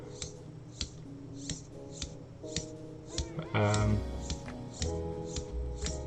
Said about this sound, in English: it's clicking a little bit, so I think there's a gear missing, well, a tooth missing